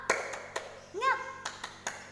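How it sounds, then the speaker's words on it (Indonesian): A class performs a rhythmic spirit clap: a handful of sharp, close hand claps in a quick pattern, with a voice calling out in the middle between them. "kita tepuk semangat dulu yuk"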